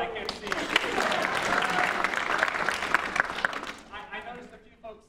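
Audience clapping throughout at a community showtunes concert, a dense sustained applause that gradually tapers off, with voices mixed in.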